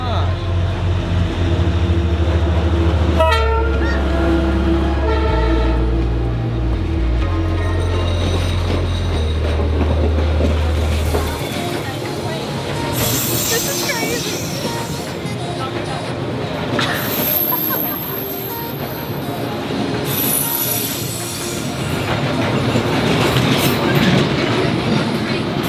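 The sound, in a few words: train passing very close through a Hanoi street, horn and wheels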